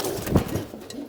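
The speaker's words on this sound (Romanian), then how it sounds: "Ăștia sunt porumbei de 2023." A single soft, low pigeon coo, close and brief, against a quiet background.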